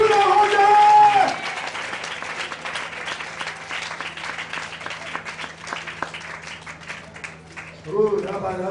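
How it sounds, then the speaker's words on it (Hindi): A church congregation claps together to thank God, a sustained wash of applause from many hands that fades slightly over several seconds, with a voice speaking before and after it. "ताली बजाकर परमेश्वर को धन्यवाद करें"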